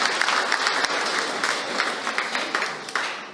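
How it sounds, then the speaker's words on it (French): Applause from a church congregation, steady dense clapping filling the whole stretch at moderate loudness, with no voices standing out. "Applaudissons pour nous-mêmes."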